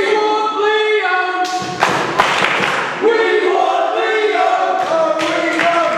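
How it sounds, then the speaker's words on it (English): Wrestling arena crowd chanting for Leo Shadows, rhythmic voices and loud claps and thuds, with someone talking over the chant. "crowd clearly chanting for Leo Shadows"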